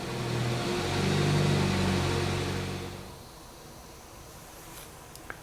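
A car engine revs up, a loud rising and holding drone for about three seconds before dropping back to a quieter low idle, with no talk over it.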